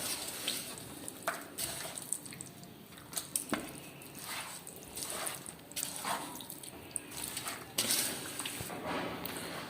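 Fish being mixed by hand with a little flour (maida) and masala in a village street-food kitchen, giving soft wet squishing and slapping sounds in irregular bursts, fairly close, with no talking.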